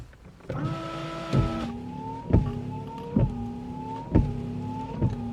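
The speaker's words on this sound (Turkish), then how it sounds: "sil bak silecek takma operasyonu başarıyla tamamlandı. Bir de çalıştırıp deneyelim bakalım ne oluyor." Banana-type windshield wipers sweep back and forth with an electric motor whine, each pass ending in a soft thump at a steady, roughly one-second rhythm.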